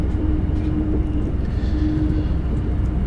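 Bombardier BR 187 TRAXX 3 electric locomotive in a train simulator game, a deep steady rumbling drone with a faint sustained hum, loud and continuous without talk.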